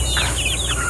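Chickens, quality breeder fowl, give a quick run of short high clucks and chirps close by, set against a steady noisy background with no talking.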